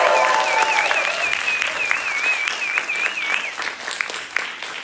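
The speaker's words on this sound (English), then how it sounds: "can we have a huge round of applause for Akka Sound, which set up all of our sound system and audio for this concert" A concert audience at an MIT Ohms spring show applauds the sound crew, dense sustained clapping and some cheers from a crowd, loud and continuous, with a whistle-like tone wavering through the first few seconds.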